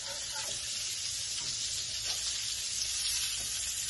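Fish fries in a pan with a steady, close, hissing sizzle that holds evenly throughout, with faint clinks of cookware underneath and no one talking.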